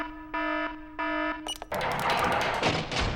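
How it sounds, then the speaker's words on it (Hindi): A security alarm system in a diamond vault sounds in two steady electronic tone bursts, then gives way to a loud, dense burst of clattering and rushing noise. "मैं बच्चों को दिखा रहा था कि हमारा अलार्म सिस्टम कितना सख्त है और हमारा हीरा कितना सुरक्षित।"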